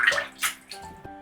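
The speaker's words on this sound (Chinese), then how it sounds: "再用清水清洗乾淨，這樣這個豬蹄就預處理完成了" Clean tap water runs over raw pig trotters being rinsed in a kitchen, a steady splashing stream with a few brief bursts and gurgles, close and alone.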